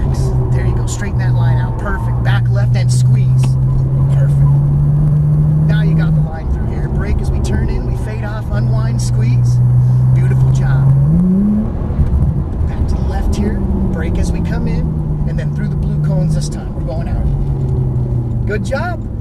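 Porsche 997 Turbo driven hard on a racetrack, its engine droning loud and steady, then rising in pitch through one upshift before pulling again, with an instructor talking over it throughout.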